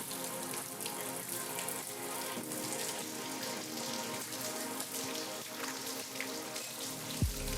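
Steady hiss of fake rain spray pattering down at a fitness photo shoot, constant and fairly close, with no voices over it.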